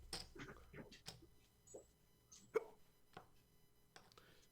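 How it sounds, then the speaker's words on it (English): Several short, sharp hiccups from a player during a tabletop-style railway board game session, spread irregularly across a few seconds, close and fairly quiet, with faint background noise between them. "Hiccups. Not nice."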